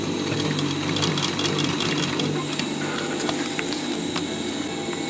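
A sewing machine runs continuously, close and steady, as it stitches around a curved edge, with a rapid mechanical needle rhythm and faint clicks on top.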